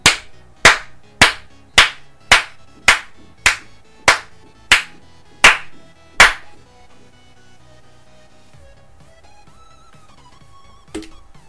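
Ten slow, evenly spaced hand claps ring out one at a time, loud and close, followed by near silence.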